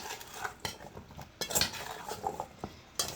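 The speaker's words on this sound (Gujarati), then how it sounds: "અને પછી એને કરી લઈશું મિક્સ મિક્સ મિક્સ મિક્સ" Potatoes being tossed with spices in a bowl, giving soft scraping and stirring sounds with occasional light clinks of a utensil against the bowl, close and quiet with no talking.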